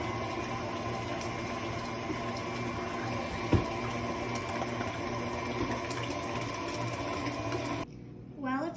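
An electric stand mixer whirs steadily at close range, beating sugar into ginger snap batter, with a brief clink partway through before the motor cuts out near the end.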